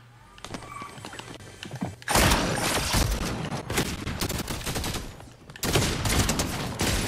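Shotgun blasts and gunfire in a Fortnite match boom loud and close in several bursts, with heavy impacts crowding one another and little talk over them.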